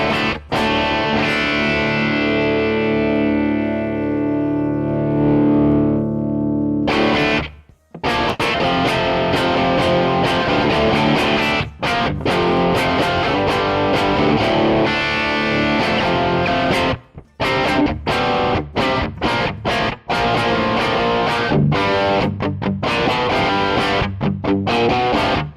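Loud, heavily distorted electric guitar played through a Kuassa amp simulator with a distortion mod engaged: sustained saturated chords, then a brief gap and chugging, punchy riffs with abrupt palm-muted stops, no voices.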